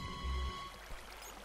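Water pours and trickles steadily inside a Minecraft cave, a soft continuous flowing hiss with a low tonal hum underneath and no talk.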